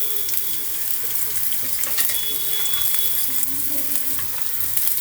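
Long-sliced onion frying in a pan for chilli chicken gives a steady, close sizzle with occasional stirring scrapes and a faint watery trickle running under it throughout.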